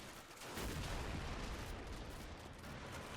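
Continuous battlefield gunfire and artillery rumble from the WWII strategy game Men of War: Assault Squad during a Marine LVT beach assault on Tulagi, a dense, loud barrage starting after a brief quieter lead-in and sustained throughout.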